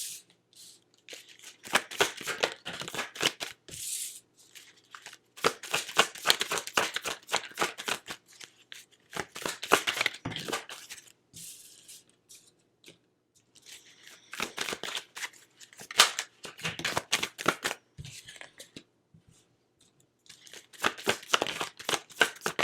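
Tarot cards are shuffled by hand in repeated quick riffling bursts, crisp and close, separated by short quiet gaps, with no talking over them.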